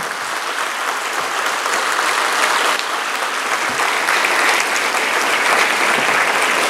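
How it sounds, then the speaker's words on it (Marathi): A large student audience claps hard with hands raised, producing dense, loud, sustained applause that swells slightly and holds steady throughout, with no voices over it. "अरुण सरांसाठी हात वर करून जोरात टाळ्या वाजवा"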